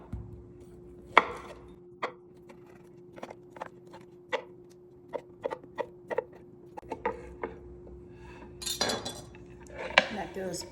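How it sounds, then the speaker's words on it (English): A knife chops Polish kielbasa on a board in a quiet kitchen, landing a long series of crisp, uneven knocks with short pauses between them. "I've got some Polish kielbasa here. Just gonna cut these up."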